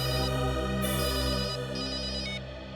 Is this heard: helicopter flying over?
no